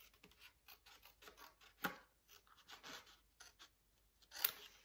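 Quiet, close paper rustling and snipping from scissors cutting along a line for a Christmas scrapbook card, a few short cuts with soft scraping between them.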